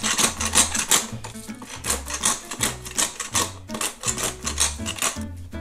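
Fresh coarse black pepper ground by hand in a mill, a rapid series of close, gritty crunching and clicking bursts repeating in an uneven rhythm throughout.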